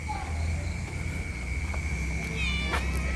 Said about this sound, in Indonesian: Kucing, wish.